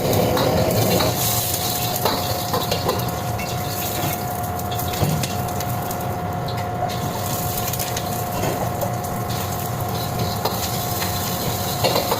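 Nasi goreng (fried rice) stir-fried in a pan, a steady loud sizzle with constant scraping and stirring of a utensil against the pan, no voices.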